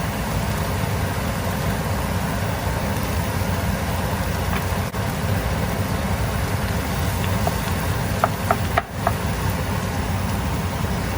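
Two pounds of ground beef frying in a pan for beef enchiladas, a steady broadband sizzle that runs unbroken and fairly loud, with a few faint clicks near the end.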